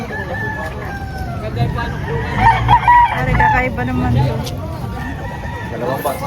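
Chickens and roosters at a poultry market in Padre Garcia, Batangas, crowing and clucking amid crowd babble, with someone speaking close by over the steady background din.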